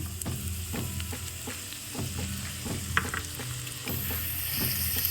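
Ginger and garlic fry in oil in a pan for Gobi Manchurian, a dense close sizzle with rhythmic scraping strokes from stirring throughout.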